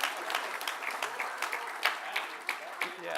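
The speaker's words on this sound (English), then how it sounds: "Now you applaud." Conference audience at a modular construction summit applauds, a moderate spread of clapping that swells and ebbs in uneven bursts, heard from some distance in a hall with faint murmuring mixed in.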